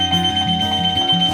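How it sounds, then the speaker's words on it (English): A school activity bus alarm beeps in a rapid repeating pattern of short electronic tones, loud and close, with nothing else heard. "until you hear that beeping."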